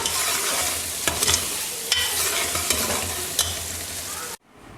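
Mutton karahi cooked Peshawari style sizzles loudly in a wok while being stirred, with scraping strokes over a steady frying hiss that cuts off abruptly near the end.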